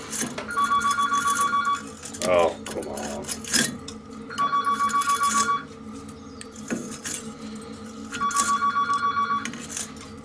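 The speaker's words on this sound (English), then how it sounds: "My boy ringing me" A telephone rings in repeated bursts, three clear electronic rings spaced a few seconds apart, heard in a workshop alongside a short spoken remark and clattering noise between rings.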